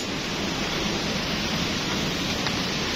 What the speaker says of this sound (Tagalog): Pabagsak na yung ulan.